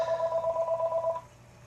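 A telephone bell rings in a steady warbling trill for just over a second, then cuts off, leaving a low hum behind.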